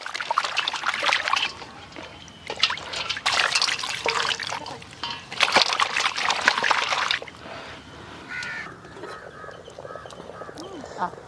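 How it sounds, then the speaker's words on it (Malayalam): A fish head is washed under running water: splashing and trickling with handling noises for several seconds, then a softer dribble as the flow eases. "രണ്ട് മൂന്ന് വെള്ളം നല്ല വൃത്തിയായി കഴുകിയെടുക്കണം"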